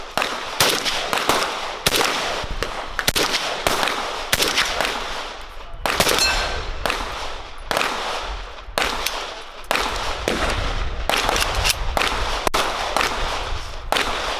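Repeated loud gunshots at an outdoor shooting range, sharp close cracks fired in irregular clusters and single shots throughout, with brief gaps between volleys.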